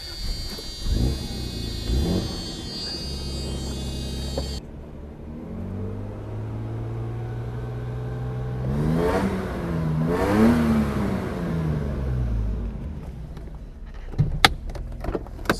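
A 1990 Mercedes-Benz 300TE W124 station wagon with a straight catback exhaust and no stock muffler cranks, fires up and settles into a throaty idle, with rising and falling revs and a few sharp clicks near the end.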